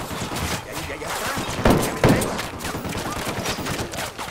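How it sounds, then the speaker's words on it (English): Gunfire in the open-world shooter Ghost Recon Wildlands: steady rattling shots blend into a dense, loud firefight, with two heavier close cracks standing out in the middle. "Opening fire on these fuckers."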